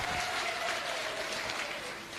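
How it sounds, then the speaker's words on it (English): A crowd claps steadily at a parliamentary public hearing, a dense wash of applause that holds its level and fades slightly at the end. "Give yourselves a round of applause."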